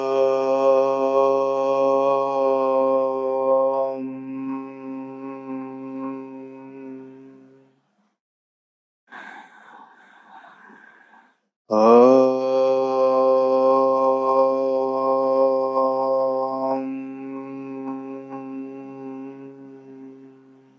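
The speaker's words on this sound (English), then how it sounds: "let's sit together and chant Om 3 times for closing the session" A single voice chants Om, two long, steady, sustained tones close up separated by a quiet pause with a soft breath, the second starting with a sharp onset and fading gently.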